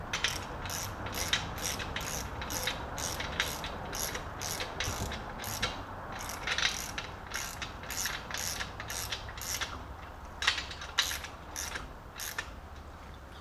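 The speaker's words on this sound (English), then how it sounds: "So just going to tighten those down until stops, hand tight." Socket ratchet clicking in quick regular bursts while 17 mm bolts are tightened on the bottom end of a BMW M10 engine, close and fairly quiet with no talking.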